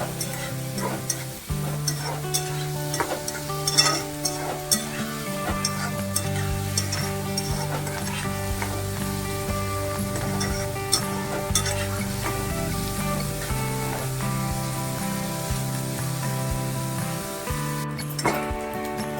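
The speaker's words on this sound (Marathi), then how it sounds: "कांदा परतून घेऊ आपण। कांदा चांगला परतायचा" Onion sautés for upma in a hot pan, a continuous close sizzle and frying crackle with clinks and scrapes of a spoon stirring against the metal, with no talk.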